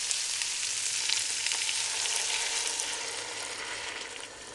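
Offal such as tripe frying in a pan crackles and sizzles steadily up close, with dense spattering that eases off slightly near the end, and no one speaks.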